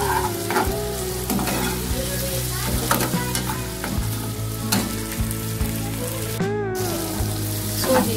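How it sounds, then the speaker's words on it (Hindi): Steady, crackling sizzle of tadka spices frying in hot oil in a pan, with occasional stirring scrapes and clinks throughout, close and fairly loud. "ये देखें तड़का बस मैं तैयार कर चुकी हूँ"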